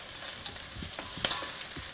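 Prawn bodies with sliced shallots sizzle steadily in a pan for a gambas risotto, with a few soft scraping stirs and a brief clatter partway through. No one speaks.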